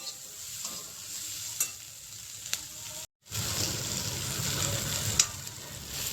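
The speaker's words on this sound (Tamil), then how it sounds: "இப்போ ஹையில் வச்சு வெங்காயத்தை நல்லா வதக்கலாம்" Onions sauté in a pan over high heat for mint chutney, hissing in a steady close sizzle with stirring scrapes, a brief silent break partway through, and no talking.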